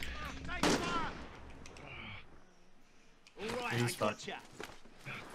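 Gunfire in Call of Duty Warzone: sharp bursts of shots crackle near the start and again in a denser cluster later, separated by a quieter lull, with player voices talking over the action.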